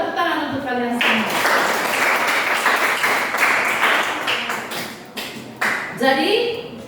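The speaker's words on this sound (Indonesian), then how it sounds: "Ya, tepuk tangan untuk kalian semua." Schoolchildren clapping together in a classroom, a short burst of brisk applause that fades unevenly, with a teacher's voice heard before and after the clapping.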